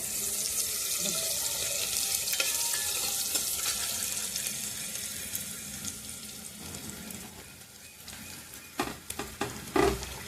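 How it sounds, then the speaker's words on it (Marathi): Onion browning in a pan, then garlic added, for a chickpea and mung bean curry: a steady broadband sizzle with scattered stirring scrapes and a few sharp clinks near the end, no speech. "कांदा चांगला भाजत आला भाजला आपला कांदा आता आपण लसण टाकून घेऊ"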